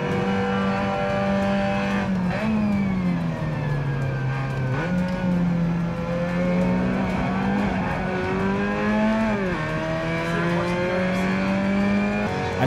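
Mazda MX-5 racing around Brands Hatch in a racing video game, a steady engine whine rising and falling through gear changes and corners, continuous and unbroken with no voices.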